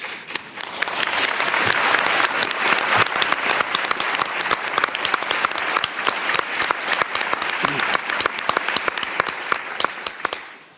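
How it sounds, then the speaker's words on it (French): A conference audience breaks into sustained, dense applause, many hands clapping steadily for about ten seconds before tapering off at the end, loud and close with a hall-like spread. "j'adore quand mes interventions commencent par des applaudissements"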